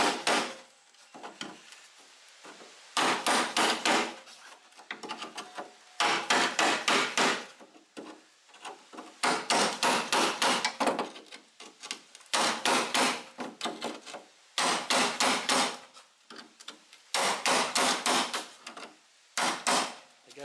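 Repeated bursts of hammering on a chisel as it breaks a spot weld on a Holden HK/HT/HG front guard, sharp metallic strikes in rapid runs with short pauses between, loud and close, no talking.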